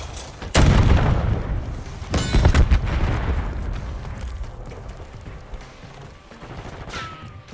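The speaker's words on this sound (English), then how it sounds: "enemy grenade!" Grenade explosion in a multiplayer shooter game: a sharp blast erupts early, followed by a second heavy boom and rumbling gunfire-like crackle that gradually decays, with a faint ringing tone near the end.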